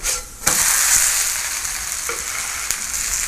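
A grated potato pancake fries in a pan with a steady, loud close sizzle and crackle, with a couple of brief sharper pops and scrapes, and no talk.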